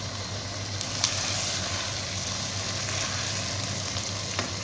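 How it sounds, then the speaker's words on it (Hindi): One kilogram of chicken is frying in a pot as bhuna for chicken biryani, giving a continuous, even sizzle with a couple of faint clinks and stirs. "चिकन की भुनाई कर रहा हूँ।"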